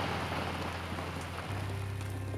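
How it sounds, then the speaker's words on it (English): Steady rain falls during a mountain elk bowhunting trip, a dense, even hiss of drops with a low hum underneath, with no talk. "when is it gonna stop raining?"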